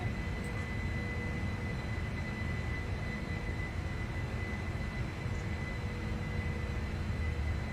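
Boeing 747 jet engines roar steadily at high thrust as the airliner climbs out after takeoff in a flight simulator game, a dense, continuous rumble with a faint high whine and no talk.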